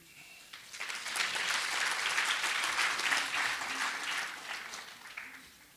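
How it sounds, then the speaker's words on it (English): Audience applause at a mining safety day of learning swells quickly into a dense wash of claps, holds steady, then tapers off, heard from a distance at fairly low volume. "Another round of applause, I think, for Carol."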